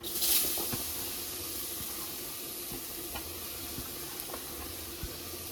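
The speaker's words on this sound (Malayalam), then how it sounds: "ഇനി നമുക്ക് തേങ്ങയൊന്ന് വറുത്തെടുക്കാം" Grated coconut roasts in a pan until brown for breadfruit curry, with a soft, steady sizzle, broken by occasional light ticks of stirring; fairly quiet throughout.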